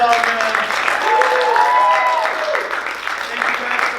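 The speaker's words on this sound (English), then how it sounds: "Give our performers a round of applause" Audience applause for improv club performers at the end of a Valentine's Day show, a full crowd clapping and cheering continuously close by, with voices and whoops mixed into the sustained clatter.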